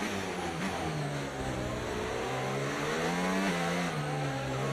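An F1 race car in the F1 25 video game accelerates hard to overtake, its high engine note climbing steadily and staying loud and close throughout, with no talk over it.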